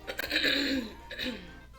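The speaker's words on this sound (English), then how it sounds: "I know I'm still coughing, clearing my throat quite a bit" A person coughs and clears their throat in a few rough bursts, close and fairly loud, with short gaps between them.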